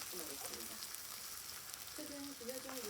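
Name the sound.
pork fat grilling on pot lid over wood stove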